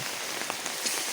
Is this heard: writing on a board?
no